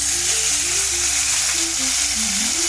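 Tomatoes hit a hot pan and fry with a loud, steady hiss and sizzle while chutney cooks, a broad constant crackle with faint tonal whistles underneath.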